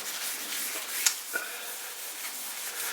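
Thick, gloopy Tru-Oil is rubbed by hand into the wooden neck of a DIY PRS guitar kit, producing a soft, steady swishing with a couple of slight scuffs.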